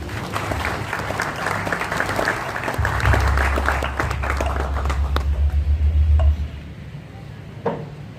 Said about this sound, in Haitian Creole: je vous demande d'applaudir Jean-Gardi Seyi sur l'orientation professionnelle